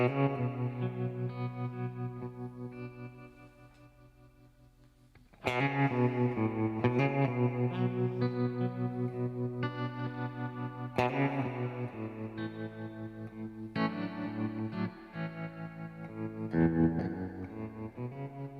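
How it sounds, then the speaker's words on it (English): Electric guitar played through a Strymon reverb pedal set to a big, boingy spring-style reverb, sustained chords and notes ringing out with long washy tails, steady and fairly loud with no talking. "a big boingy kind of reverb."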